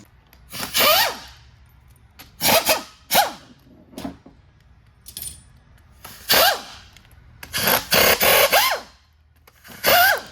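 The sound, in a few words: socket wrench loosening bolts on Eaton Fuller transmission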